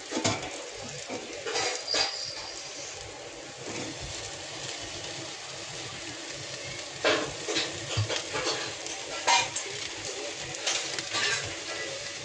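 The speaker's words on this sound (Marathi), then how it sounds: "आता मी ह्या जाळीवर आपली तंदुरी भाजणार आहे" Chicken tandoori roasting on a grill rack, with a soft background sizzle and bursts of metallic clatter and scraping as pieces are turned and handled, heard close.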